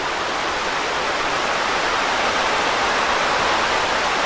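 Steady, full rushing of the Loyalsock River at Worlds End State Park, Pennsylvania, swollen after a rise overnight, an even, continuous wash of water noise with no talking.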